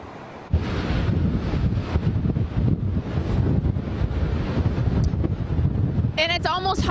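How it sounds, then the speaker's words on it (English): Strong wind gusts roar against the microphone on the Lake Erie shore, with heavy waves crashing and splashing in a loud, continuous wash; a brief higher whistling rises near the end. "I'm getting splashed by some of these massive waves that are coming over"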